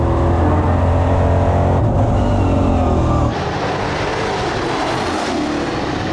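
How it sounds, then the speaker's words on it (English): Loud onboard engine drone from a EuroNASCAR race car at Brands Hatch, heavy and steady, then cutting back sharply partway through as the car slows under braking, with no talking. "So you feel the car brakes a lot."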